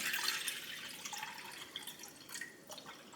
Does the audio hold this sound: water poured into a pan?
yes